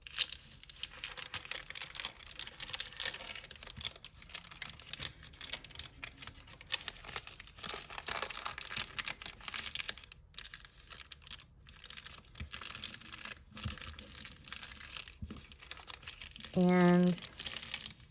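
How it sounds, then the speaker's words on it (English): Parchment paper being folded for a doily envelope, with close crinkling and crisp rustling pats throughout, and a brief tonal beep near the end. "I'm going to fold the sides in first"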